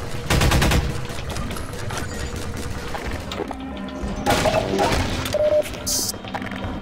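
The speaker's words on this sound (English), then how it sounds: "Grenade!" In the video game Half-Life 2, a grenade explosion and bursts of gunfire crash loudly in several heavy hits, with a sharp metallic ping near the end and a voice calling out in between.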